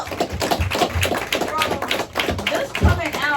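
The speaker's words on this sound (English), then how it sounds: "Can y'all clap for yourself?" Audience at an album release event clapping in a loose, uneven patter of hand claps, with talk and voices mixed in over the clapping.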